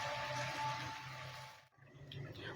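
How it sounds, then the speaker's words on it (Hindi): A little water goes into a hot pan of sautéed onion, garlic and ginger for kadhi pakoda, making a bright, hissing sizzle that cuts off abruptly partway through, followed by quieter bubbling. "अब थोड़ा सा पानी डालेंगे।"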